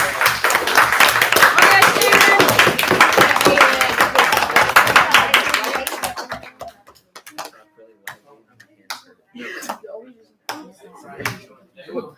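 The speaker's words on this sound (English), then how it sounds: "give him a round of applause" An audience at a Maker Faire presentation bursts into dense applause for about six seconds, then it thins to a few scattered claps, with voices talking afterward.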